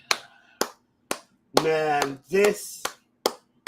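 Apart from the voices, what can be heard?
person clapping hands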